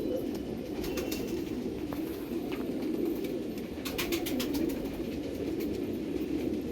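Soft, continuous low cooing from pigeons fills the clip, with scattered faint chirps and light clicks over a steady background hum.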